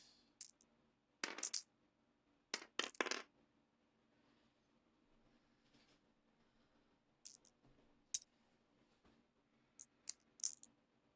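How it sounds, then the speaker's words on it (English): Dice rolling and clattering on a tabletop during a miniatures game, sharp bursts of rattling clicks in several separate throws spread across the stretch, close and crisp over a quiet room. "Yeah, too many dice. Gonna have to roll again."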